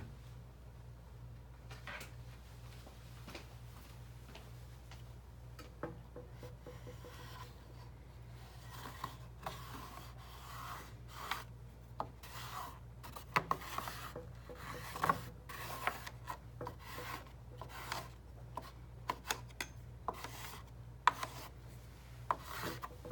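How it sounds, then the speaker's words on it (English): A paint scraper rasps and scratches through a layer of black acrylic paint on paper, a steady close rubbing texture with scattered sharper scrape strokes over a low background hum. "get my paint scraper and scrape some interesting looking"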